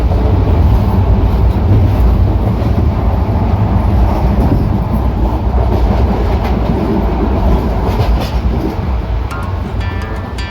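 An overnight sleeper train races at high speed, its loud, steady rumble and rolling wheel noise filling the carriage continuously, with a few rhythmic clacks near the end and no talking.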